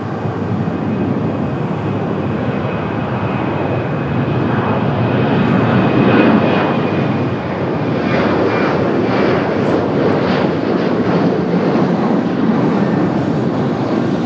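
An Alaska Airlines jet departs Raleigh-Durham International Airport with a loud, sustained engine roar that swells and peaks midway, then slowly fades while staying broad and steady, with no talking.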